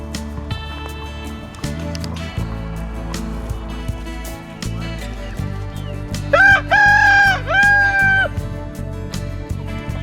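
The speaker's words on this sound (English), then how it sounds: "Come on, Rooster, you can have some too." Backyard chickens and a rooster feeding on Grub Terra treats, with busy clucks and scratching pecks, then a loud, close rooster crow rising in two drawn-out calls near the end.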